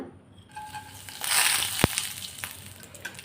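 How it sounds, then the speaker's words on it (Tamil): Dried pepper-tomato vathal is sautéed in sesame oil, with a soft sizzle and crackle that swells in the middle and a single sharp scrape or tap, close but fairly quiet. "இப்போ இதை கொஞ்சம் வதக்கி எடுத்துக்கலாம்."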